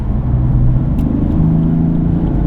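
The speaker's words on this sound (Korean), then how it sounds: "배기음이 바뀌죠." BMW M3 with a twin-turbo engine at full throttle in sport mode, its exhaust note a loud, steady, close rumble that rises slightly in pitch, with no talking over it.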